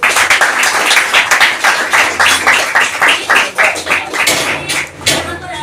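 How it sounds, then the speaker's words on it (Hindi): Loud, dense applause from a large audience at a motivational lifestyle seminar, many hands clapping in quick overlapping bursts that rise and dip steadily throughout. "अपने लिए जोरदार ताली"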